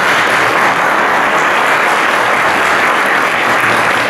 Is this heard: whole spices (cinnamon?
no